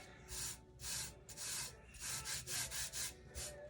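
Glitter being rubbed off by the tack-it method, close, quiet rhythmic rubbing strokes, about eight bursts of scratchy friction in quick succession.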